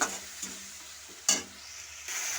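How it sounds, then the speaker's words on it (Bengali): Spice paste stir-fried in a pan with a little water, a quiet steady sizzle punctuated by a few scraping strokes and one sharper spatula hit, with no talk. "এখানে অল্প একটু জল দিয়ে দেব দিয়ে আমি কষ মশলাটাকে ভালোভাবে কষিয়ে নেব"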